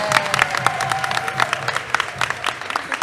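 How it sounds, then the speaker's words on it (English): A crowd claps and cheers in a short, lively burst of applause. "So I want to clap it up for them."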